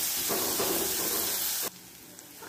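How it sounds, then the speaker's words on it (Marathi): Ginger-garlic paste sizzles in hot oil for chole masala, a steady close frying hiss with stirring scrapes that cuts to near silence partway through. "मिक्स करून घ्यायचं आहे व्यवस्थित, असा कच्चेपणा जास्तपर्यंत परतून घ्यायचं आपल्याला"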